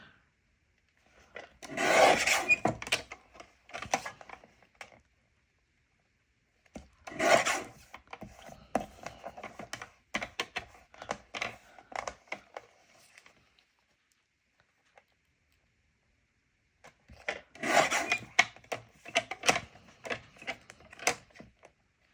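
A paper trimmer cutting cardstock for embellishments: three separate bursts of dry, rasping, scraping strokes, close and fairly quiet, with near silence between the passes.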